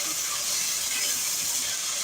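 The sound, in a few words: chicken frying in a pot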